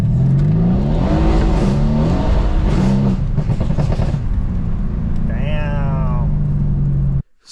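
A tuned 630bhp Mercedes C63 AMG revs hard at night, a loud, deep engine roar rising and falling in pitch with throttle blips, a brief high-pitched whine near the end before cutting off abruptly.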